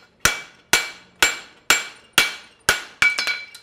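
Hammer blows ring out on a horseshoe against an anvil while the shoe is flattened and its corners cleaned up: six evenly spaced, sharp metallic strikes with bright ringing decays, closing on a quicker cluster of lighter taps.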